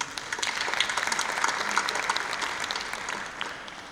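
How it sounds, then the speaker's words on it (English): Audience applause fills a conference hall during an annual general meeting at the Durban ICC, a steady, fairly distant wash of many hands clapping for about four seconds with no talk over it. "I think everyone deserves a round of applause"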